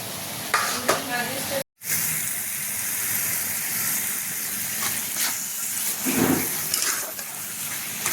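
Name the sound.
mushrooms sizzling while frying on high heat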